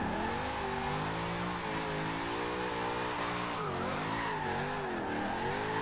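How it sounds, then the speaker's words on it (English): Engine of a Toyota AE86 in Forza Horizon 2 drifting setup, a steady loud revving drone with shifting pitch and wheelspin squeal layered through, continuous and close with no talk. "The wheels aren't spinning up as easily as they were."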